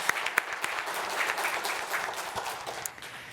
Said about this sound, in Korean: 응원 박수 다시 한번 부탁드립니다